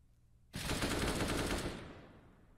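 Rapid, loud gunfire from a Counter-Strike esports match, an eco round with P250, Five-SeveN, CZ75 and USP pistols, erupting as a dense burst of shots lasting just over a second before tailing off, with no talk.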